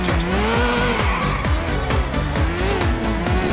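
Motorcycle chase in the video game GTA 4, with a constantly revving engine whining up and down in pitch and repeated sharp tire squeals over a dense, loud background of game sound.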